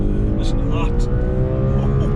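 An Audi RS4 B8 V8 engine revving hard and steadily at high revs, a sustained loud drone with rising harmonics, close and continuous throughout.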